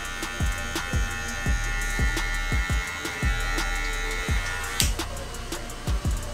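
An electric hair clipper set to its closed position buzzes steadily at close range, with repeated short sweeping strokes through hair giving a pulsing rhythm over the continuous motor whine.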